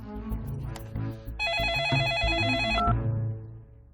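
A telephone rings loudly with a repeating electronic trill, preceded and followed by a tonal musical background.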